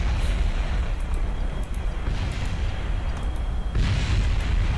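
A rocket shot down in an aerial combat video game bursts amid a continuous heavy roar of engines and gunfire, loud and dense throughout, with no talk.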